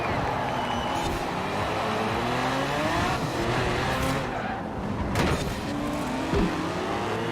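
A Chevrolet Chevelle Super Sport's engine in Forza Horizon 4 runs steadily at partial throttle in a race pack, a continuous loud drone with shifting pitch and brief tire scrubs.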